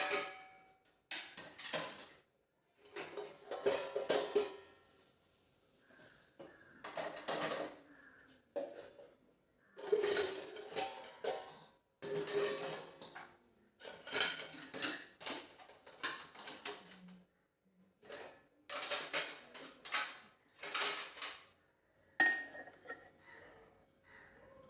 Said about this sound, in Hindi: तो यहाँ पे जो भी बर्तन रात के थे ना, वो सब मैंने जगह पे लगा दिया था